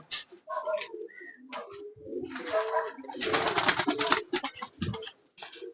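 AK Star pigeon cooing up close, a few soft throaty coos broken by rustling and flutter-like bursts, fairly faint overall with short quiet gaps between calls.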